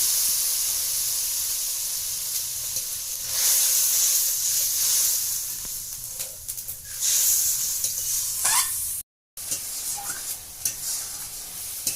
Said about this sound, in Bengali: এইটা আমি অল্প জল দিয়ে এই করবো, যেহেতু আমি গুঁড়ো মশলাটা দিয়েছি, ভালো করে নেড়ে নেব।